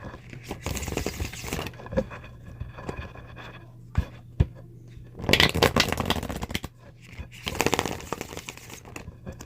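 Tarot cards are shuffled in several bursts of riffling and sliding, close and crisp, separated by quieter pauses with small taps and rustles.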